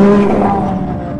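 Ayrton Senna's classic racing car, driven by Lewis Hamilton, roars close by with a loud, steady engine note and strong harmonics that hold through the moment.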